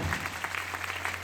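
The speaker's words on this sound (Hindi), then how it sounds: "मैं चाहूंगा उनके धन्यवाद के लिए एक दमदार वाली ताली बजाना" Audience clapping along after a call for loud thanks at a Safe Shop leaders' meeting in Ranchi, a brief burst of steady applause spread across the room, moderately loud, with a low hum running beneath it.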